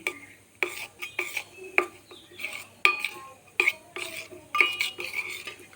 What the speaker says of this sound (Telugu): ఉండలు లేకుండా ఇలా కలుపుకోవాలి